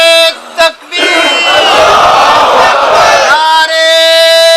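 A large crowd at an annual spiritual gathering in Chakwal roars back a takbir slogan in unison, a loud sustained shout of many voices rising after a brief call and fading out.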